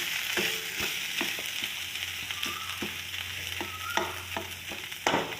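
Eggs and potatoes sizzle in a pan with a constant bright hiss, while sharp utensil taps and scrapes punctuate it every second or so and a low hum runs underneath for a stretch.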